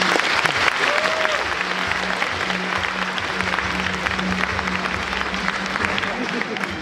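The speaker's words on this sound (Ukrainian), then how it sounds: "Поэтому поприветствуем друг друга громкими аплодисментами." Loud, sustained applause from a concert audience at the opening of an anniversary concert for a university applied mathematics department, a dense steady wash of clapping lasting throughout, with some voices mixed in.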